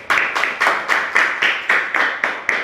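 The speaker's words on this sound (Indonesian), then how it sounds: "Beri tepuk tangan untuk Ibu Putri." Applause for Ibu Putri comes as about nine evenly spaced, sharp group claps in a steady rhythm, close and moderately loud with no talking over them.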